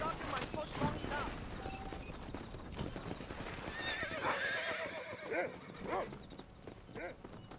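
Horses in the Red Dead Redemption video game whinny repeatedly over a steady clip-clop of hooves, with occasional distant gunfire and voices talking throughout.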